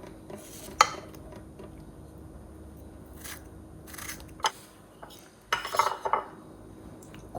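A knife cuts through a nut-free baklava cake dusted with cornstarch, giving scattered metallic clinks and scrapes of cutlery against a dish amid quiet background, with a denser cluster of taps near the end.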